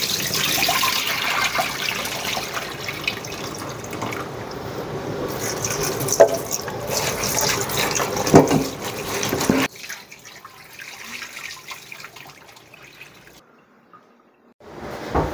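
Tap water runs steadily into a kitchen sink while pork is washed, splashing and trickling close by. It cuts off partway through, leaving quieter drips and dribbles.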